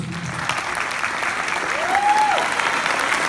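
Audience applauding fourth-year students at a university recreation night closing, a steady dense clapping that fills the whole stretch, with a brief tonal whistle rising over it midway.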